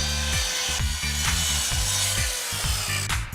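A deck board being sawn to size on a home building project, close rhythmic hand-saw strokes at a quick, even pace, each pass rasping through the wood with no talking.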